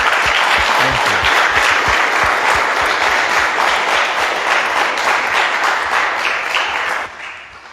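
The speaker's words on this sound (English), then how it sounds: "Let us give an applause to them." Audience in a Copenhagen church breaks into sustained, loud applause for several seconds, dense and even before tapering off quickly at the end.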